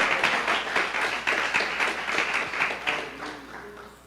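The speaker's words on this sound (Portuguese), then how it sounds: "Aplauda o Senhor com o seu melhor." A church congregation claps during a lively worship service, a dense patter of hands that swells and ebbs in loose waves for about four seconds with faint voices mixed in.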